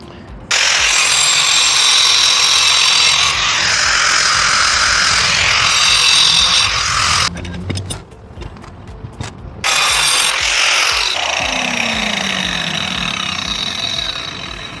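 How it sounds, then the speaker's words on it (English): Angle grinder fitted with a WonderBlade cutting through masonry stone, a loud sustained high whine of blade on stone that drops out briefly mid-cut and then resumes, close and with no talking. "clean cut through masonry, through this stone right here, which could easily go through brick."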